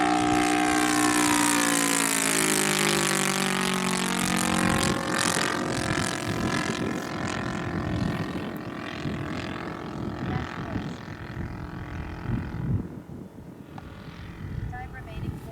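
A newer engine on a 1/4 scale Hurricane model airplane runs loud at first with a high, wavering whine that shifts pitch, then fades into gusty wind and rumble at an outdoor maiden flight.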